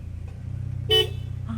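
A car horn on a road in Australia gives one short, clear honk over the steady low rumble of an idling vehicle nearby.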